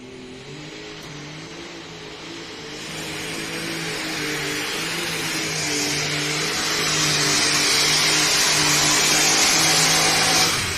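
A 6,200-pound light super stock tractor roars at a county fair tractor pull, its loud engine drone building steadily and climbing in pitch over about ten seconds with no talk.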